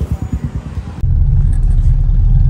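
A Toyota Innova's engine fires and settles into a steady, loud idle rumble after a second of uneven cranking-like pulses, continuing close and unbroken to the end.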